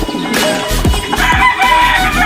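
A gamefowl rooster crows loudly and close, a harsh rising call over steady outdoor background noise.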